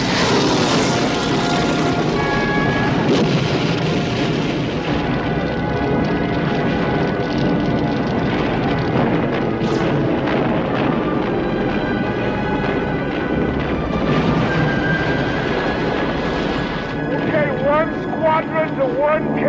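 Propeller engines of attacking carrier torpedo planes in a 1988 war mini-series roar steadily and loudly under dramatic orchestral music and a narrating voice.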